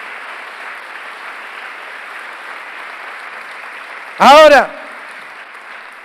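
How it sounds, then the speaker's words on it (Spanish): Steady church congregation applause runs throughout a Sunday morning service, a moderate, even wash of many hands clapping, briefly interrupted by a voice speaking loudly over it. "Dale un fuerte aplauso"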